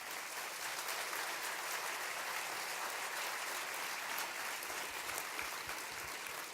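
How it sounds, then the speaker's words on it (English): Audience applause at a depression center charity luncheon, a dense, sustained clapping from a large crowd in a hall, steady and fairly distant for several seconds. "Give them a round of applause, will you?"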